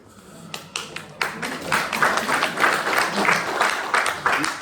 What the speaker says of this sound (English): You need to be clapping, Robert, not me.